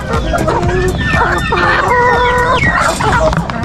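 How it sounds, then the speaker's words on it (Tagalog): Loud fighting roosters crowing nearby, overlapping calls with hens clucking underneath, busy and continuous. "Ito naman po mga manok na panabong."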